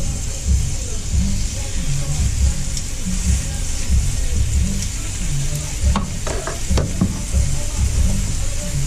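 A stuffed steak fries in a buttered pan with a loud, continuous sizzle close by, broken by a few clinks of a utensil near the end.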